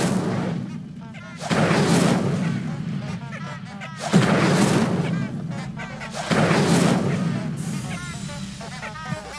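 An Incendio fire spell is cast repeatedly in the Hogwarts Legacy video game: three loud, booming whooshes burst out in turn, each fading before the next.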